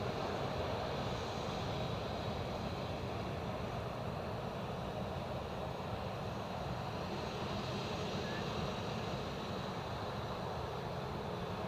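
An airliner climbs out from Edinburgh Airport, its engine roar a broad, steady, fairly distant rumble that holds evenly throughout, with no voices.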